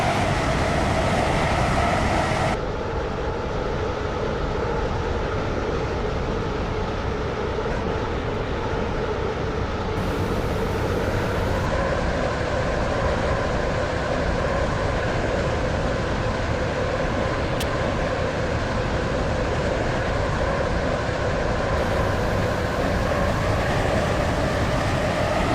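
A passenger train in the Roblox game Stepford County Railway runs with a loud, continuous rumble and steady drone for the whole stretch, bound for Whitney Green on the Waterline.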